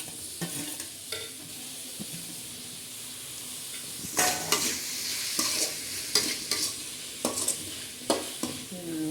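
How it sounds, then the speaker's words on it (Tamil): Green chillies and tomato sautéing in a pan for vegetarian macaroni pasta, a steady sizzle broken by several loud stirring scrapes and clatters in the second half, close by, with no talking. "எல்லாம் வதங்கிடுச்சு இப்போ அந்த தக்காளி போட்டு"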